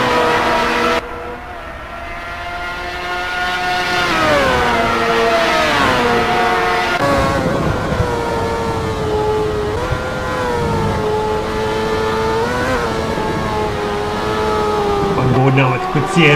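Race cars lap Silverstone in a sim racing series, among them the number 46 Rebel GHOSTWORX car chasing a rival. Engine notes rise and fall in smooth sweeps as the cars rev up, shift and pass, staying loud and close throughout.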